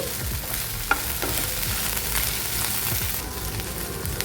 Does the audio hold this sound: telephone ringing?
no